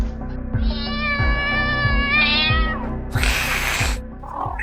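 A small cat meows in a long, drawn-out, wavering cry, then gives a short burst of hissing, close and loud over a low rhythmic thumping in the background.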